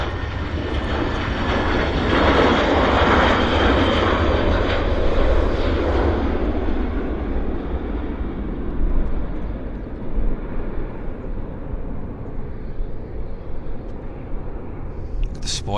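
Airliner departing Vancouver Airport, its engines roaring loud and steady for several seconds before the noise fades away as it climbs, with someone talking over the sound.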